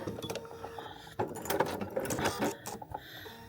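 A Bernina sewing machine edge stitching with an edge stitch foot, its quiet needle run rising in the middle with soft mechanical clatter, close and fairly faint, no talk.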